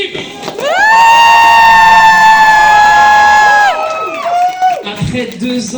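A drag show audience in France chants a rising, siren-like 'locomotive' cheer that climbs to a long sustained loud tone for about three seconds, then drops away into scattered crowd noise.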